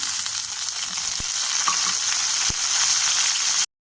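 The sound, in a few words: curry leaves sizzling in hot oil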